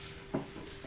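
A spoon briefly scrapes and stirs thickened cream in a pan while homemade ghee cooks, one short soft clatter over a faint steady background hum, quiet and close.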